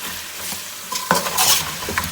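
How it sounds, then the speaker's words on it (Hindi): Mutton kabsa frying with green chillies and lemon, a steady sizzle with a few louder stirring scrapes in the second half, close and clear. "हरी मिर्चें और ये नींबू डालकर मज़ीद 10 मिनट के लिए हम लोग इसको भूनेंगे"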